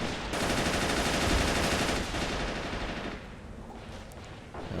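Sustained machine gun fire from a machine gun team in the WWII strategy game Men of War: Assault Squad, set at Stalingrad in 1942, rattling loudly and continuously for several seconds before easing slightly near the end.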